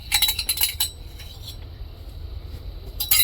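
A mixture is stirred in a pot until it thickens, with quick, close metallic clinks and scrapes of a utensil against the pot. A busy flurry opens, then a quieter gap, then a brief return of clinking at the end.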